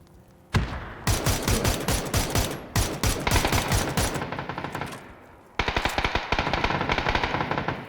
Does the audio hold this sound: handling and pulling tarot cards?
no